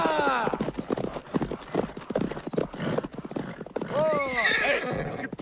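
Horses in a medieval battle scene from the film Evil Dead 3 whinny loudly and repeatedly over busy clip-clopping hooves, with shouting voices nearby.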